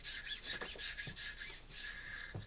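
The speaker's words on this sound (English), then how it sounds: "scrub it down as good as we can, and try to fit this brush in every little area" A brush scrubs the inside of an AR-15 upper receiver, a close, steady rasping with rhythmic back-and-forth strokes and small metallic knocks.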